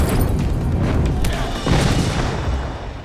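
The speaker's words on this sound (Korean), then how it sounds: "실제로 현장에서 보면 엄청난 규모의 폭발이었는데" A large explosion from the Korean war film Taegukgi roars loud and sustained for about three seconds, a dense rumbling blast with debris crashes and a second surge partway through, no voices heard.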